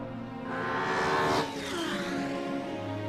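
A high-performance sports car, capable of 0 to 100 km/h in 3.7 seconds and 335 km/h top speed, accelerates on the road, its engine note rising and swelling past mid-clip before settling, with a faint tire squeal.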